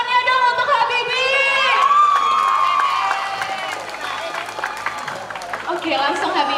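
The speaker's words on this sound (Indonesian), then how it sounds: "Beri tepuk tangannya dong untuk Habibi." An audience at a school pageant applauds and cheers, with shouts and whoops over a crowd murmur that settles into scattered clapping.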